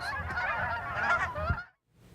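Geese honk loudly at Soap Lake, several birds calling in a dense, overlapping chorus close by that breaks off abruptly into near silence.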